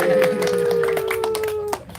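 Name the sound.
clapping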